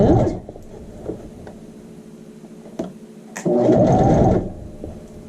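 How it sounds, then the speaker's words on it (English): Sewing machine running a basting stitch along an elastic waistband, with two close whirring bursts of rapid needle strokes separated by a quieter pause. "I'm stitching about 1/4 of an inch down from the edge of the elastic. It's a basting stitch"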